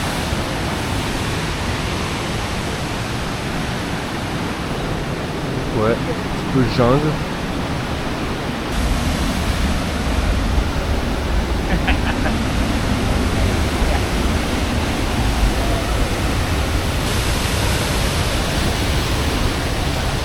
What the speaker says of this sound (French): On arrive à la cascade. Eh ouais, c'est de la grosse cascade.